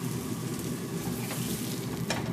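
A burger patty sizzles and fries steadily in a pan, a dense, continuous crackle close by with no talking.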